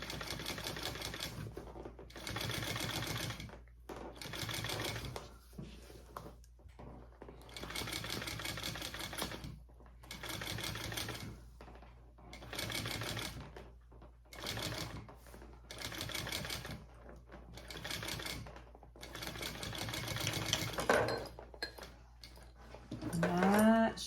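Domestic sewing machine stitching around the piping of a handmade bag, running in steady bursts of rapid mechanical chatter separated by short pauses, close and loud with no talking.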